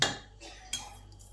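Boiled potatoes and bananas being lifted out of a pressure cooker, with a few sharp metallic clinks of a utensil against the pot, the loudest at the start and another midway, then quiet handling.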